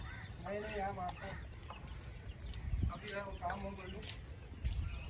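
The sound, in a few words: roosters crowing from inside the coop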